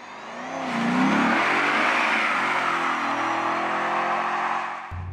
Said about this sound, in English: So off that clutch very fast, very hard, get the rear tires to shock and start to spin.